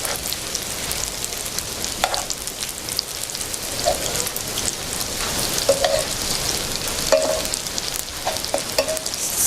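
Egg-coated sweet potatoes frying in a pan, a dense continuous sizzle like rain with several sharp clicks and scrapes as pieces are flipped.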